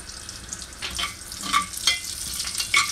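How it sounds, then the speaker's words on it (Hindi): Mustard seeds crackle while tempering in hot oil, a soft sizzle broken by sharp pops and spatters at irregular intervals, close and fairly clear. "तो अच्छा तड़कने देने का राई को।"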